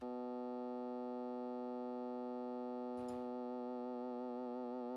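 A sustained synthesizer harmonics layer from a drum and bass production, a dense stack of steady overtones that briefly breaks into a noisy burst midway, then continues with a wavering, vibrato-like shimmer.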